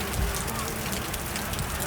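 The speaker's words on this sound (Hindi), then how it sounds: "तो अभी यहाँ पे बारिश हो रही है" Rain falls steadily on the Har Ki Dun trek in the Himalayas, a dense, even hiss of drops on surfaces that stays constant throughout with no voices.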